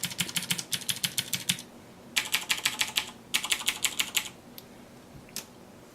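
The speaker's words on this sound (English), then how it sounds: "I'll give you a little demo of the keys in comparison to the Black Widow as well" Razer Orbweaver gaming keypad keys pressed in quick bursts of crisp clicks, three rapid rows of a dozen or so strokes with pauses between, then a couple of lone taps, close and clear with no talking.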